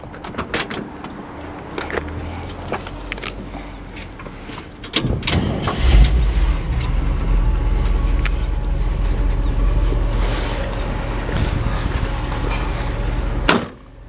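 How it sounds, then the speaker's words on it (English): A 1960 Chevrolet Impala Sport Coupe's engine cranks and fires up after some clicks and rustling, then settles into a steady idle, finishing with a sharp thump like a hood closing. "We'll go ahead and fire it up for you."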